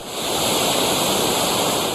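Floodwater rushes down a hillside in sudden waterfalls onto roads, a loud, dense, continuous roar of cascading water that swells in and holds steady throughout, with no voices.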